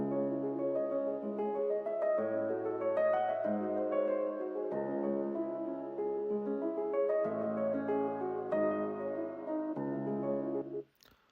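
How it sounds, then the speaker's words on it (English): Looped piano phrase from a West Coast type beat, clean sustained chords changing in steady bars, playing alone before stopping abruptly. "It's a piano loop that I found off of YouTube"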